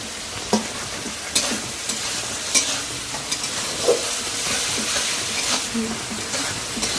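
Masala, onion paste and tomato fry and sizzle in a pan, stirred with a steady hiss and repeated scraping clacks of the spoon at close range, with no voices.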